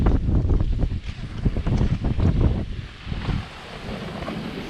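Strong wind on a sailboat near Cape Verde roars and buffets heavily against the microphone in a loud, continuous, gusty rush that eases slightly toward the end.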